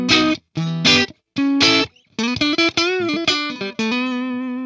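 Electric guitar run through STL Tones AmpHub distortion, heavily saturated and harmonically rich, playing loud chord stabs separated by short gaps, then a run of sustained, bending notes.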